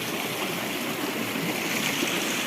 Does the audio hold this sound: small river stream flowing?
yes